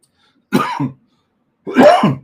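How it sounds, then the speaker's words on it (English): Two harsh coughing bursts close to the mic, each a rough double hack, separated by about a second of silence. "I apologize for the coughing."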